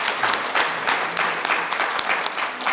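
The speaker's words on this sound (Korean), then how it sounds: "박수 한번 보내주시기 바랍니다" An audience at the 22nd Lee In-seong Art Award ceremony claps for the jury chairman: brisk, crisp applause with distinct individual claps standing out, fairly close and steady for a few seconds.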